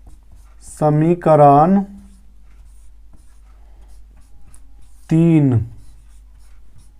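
A pen scratches out equations on paper during a class 10 math lesson, with faint, light strokes between a few brief spoken phrases.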